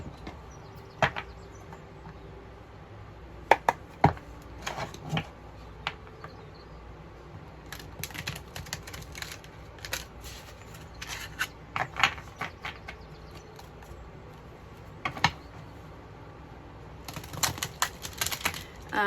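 Tarot cards are handled and shuffled close by, a quiet run of irregular clicks, taps and rubbing flicks in scattered bursts.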